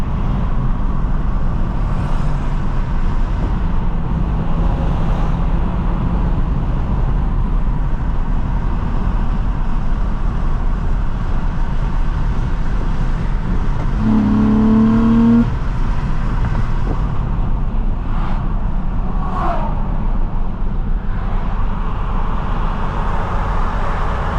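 A 2005 Nissan Altima 3.5 SE-R's engine drones steadily from inside the car while driving, with a continuous low rumble throughout and a brief rise in tone partway through.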